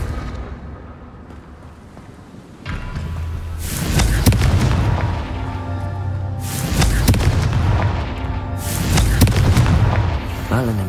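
Fire-spell blasts from the Hogwarts Legacy video game: three heavy, booming bursts rumble out in close succession over a continuous low background drone, each one loud and full with a long fiery tail.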